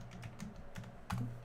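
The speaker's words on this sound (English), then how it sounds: "Furious typing." Fast, furious typing on a computer keyboard patters in quick bursts of clicks close by, ending in a heavier keystroke.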